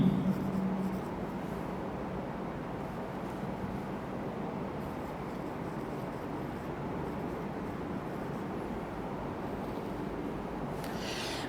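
Pen writing an account entry on paper, a steady soft scratching that runs continuously and close for over ten seconds with no talk.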